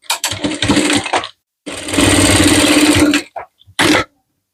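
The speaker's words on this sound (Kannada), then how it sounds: "ಇಲ್ಲಿ ಮೊದಲಿಗೆ ನಾನು 1/2 ಇಂಚಿಗೆ ಸ್ಟಿಚ್ ಮಾಡ್ಕೊತಿದ್ದೀನಿ." A sewing machine stitches blouse fabric in loud close bursts, one short run, a longer steady run, then a few brief stabs, with silent pauses between.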